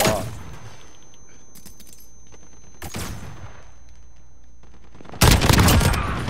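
Shotgun blasts in a 2v2 video game gunfight: a few loud, broad booms spaced several seconds apart, the last one heaviest and followed by sustained noise, with quieter gaps between.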